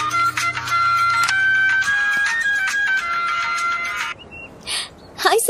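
A phone on speakerphone plays a bright electronic melodic ringtone for about four seconds, followed by a few soft breathy sounds.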